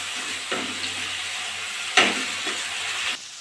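Ginger-garlic paste fries in hot oil in a pan for fish curry, a steady close sizzle with a few sharper bursts as it is stirred, ending abruptly.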